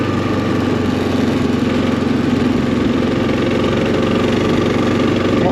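A Kawasaki KLR motorcycle engine drones steadily and loudly up close as the rider drops a gear to climb a hill on a mountain dirt road, a continuous mid-pitched hum with no pauses.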